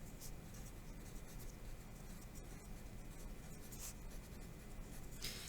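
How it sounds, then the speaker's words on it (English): A pen scratches out notes on paper in a quiet classroom, with soft, continuous strokes and small scribbling bursts close to the microphone, and no one speaking. "That's what we write down here."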